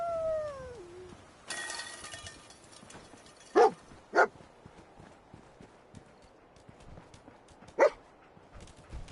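Dogmeat, the canine companion in the video game Fallout 4, gives three short, sharp barks spaced apart over a quiet backdrop with faint ambient game sounds.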